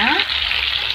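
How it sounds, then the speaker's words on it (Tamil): Marinated chicken fries in hot oil with a steady, loud, dense sizzle and crackle, heard up close and continuously over a short stretch without speech. "இப்போ சிக்கன் பொரிக்க ஆரம்பிச்சாச்சு"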